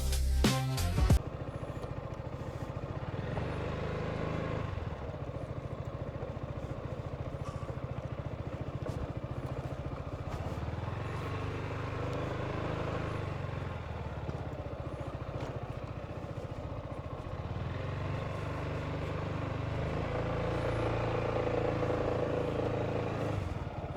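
A Yamaha XMAX scooter rides along the road, its engine giving a steady drone with wind rush that holds at an even level throughout.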